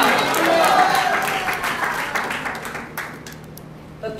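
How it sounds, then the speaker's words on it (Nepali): A church congregation claps in thanks to God during a sermon, a crowd of hands clapping fairly loudly at first and then thinning and fading as voices take over. "हामी हाम्रो परमेश्वरलाई ताली बजाएर हामी धन्यवाद गर्छौँ।"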